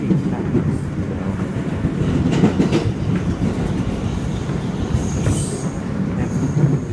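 An R160B subway train on the N line, running from 62nd Street–New Utrecht Avenue, rumbles loud and steady from on board, with constant wheel roar, faint clatter and brief high squeals, and no talk.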